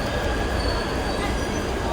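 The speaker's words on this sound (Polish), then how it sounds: "Już podjechał drugi pociąg. Drugie metro." Metro train pulling into a station, a dense, loud roar of wheels and rails filling the space with steady rumble and faint squeal.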